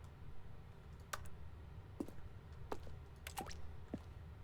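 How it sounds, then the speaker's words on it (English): Water drips in a quiet indoor space in The Stanley Parable video game, single plinks landing at irregular intervals over a low, steady hum. "I hear water dripping."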